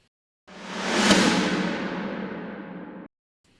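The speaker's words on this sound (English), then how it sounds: "It's a snare swell in and a big snare." A single swelling snare roll, a snare drum effect, builds and then cuts off sharply after about two and a half seconds, with a big reverberant body and no voices.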